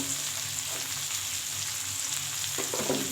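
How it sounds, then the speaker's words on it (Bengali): Salt, chili powder and turmeric being stirred into fried onions in a pan for shukto, a steady close sizzle with soft scraping strokes, a few clattering scrapes near the end. "এই দুটোকে ভালো করে নাড়াচাড়া করে নিলাম"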